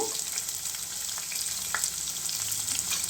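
Onions frying in oil in a pan for chicken curry give a steady, close sizzle with faint crackles, and there is no talk over it.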